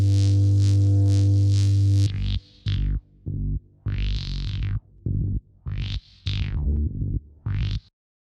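A very low synth throbs and buzzes in a long sustained swell, then breaks into choppy bursts as it bounces between the left and right stereo channels, all within a heavy, distorted mix.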